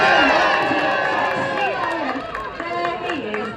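An audience cheers and shouts to welcome Callum the sea lion at a live show, a steady crowd roar with some voices rising above it.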